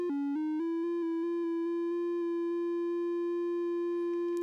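A steady electronic tone with rich harmonics from a modular synth random voltage with lag, stepping in pitch a few times early on, then holding and wavering slightly, clean and alone.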